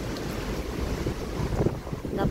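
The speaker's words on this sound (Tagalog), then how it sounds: "Yung hangin dyan, kita nyo yung hangin" Strong typhoon wind from Typhoon Ragasa roaring steadily through Hong Kong, a dense continuous rush buffeting the microphone with gusty surges, no voices heard.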